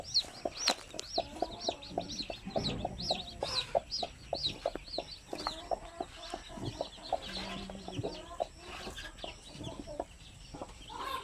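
Native hen with a brood of newly hatched chicks: dense, rapid high peeping from many chicks runs throughout, with low clucks from the hen mixed in, close and moderately quiet.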